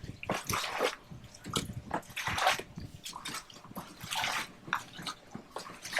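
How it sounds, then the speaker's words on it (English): Water is scooped and poured in repeated splashy bursts while bailing out a 2021 Tucktec folding kayak on open water with a small bucket, several irregular sloshes and pours close by, fairly quiet overall. "taking little, like half or quarter buckets of water out at a time"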